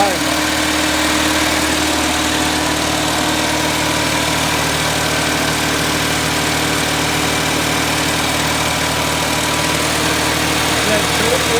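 A 1979 car engine with a misfire idles high, giving a steady, loud, continuous drone with a slightly uneven rumble and no clear pauses throughout.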